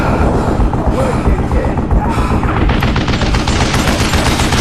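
Gunshots in the Western shooter Call of Juarez: Gunslinger ring out close and loud over a dense, continuous wash of action noise with no clear pauses.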